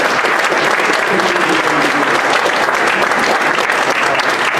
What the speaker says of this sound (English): why don't you give them a round of applause for the debate today?